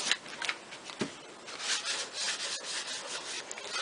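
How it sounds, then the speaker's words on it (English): A coffee-stained deer antler is rubbed down by hand, giving a soft, steady scratchy friction with uneven strokes, close and quiet, with no voices. "I'm going to give it a rub down."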